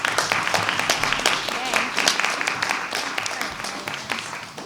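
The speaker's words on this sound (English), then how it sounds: "how about another round of applause for all my students?" Audience applause for students at a research symposium, a sustained round of clapping that fades gradually, with talk mixed in over it.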